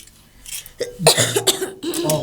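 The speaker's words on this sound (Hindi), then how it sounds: "खांसी हो रही?" A person coughs several times in quick, rough bursts close by, with some throaty, voiced sounds between them.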